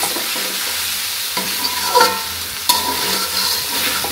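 Poppy seed and potato mixture being sautéed in a pan: a steady, close sizzle with a couple of sharper scraping stirs partway through, no voices.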